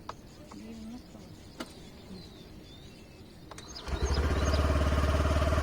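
A Honda Activa scooter is started after a few faint clicks and taps, then its engine runs in a steady, close, buzzing idle through the final seconds.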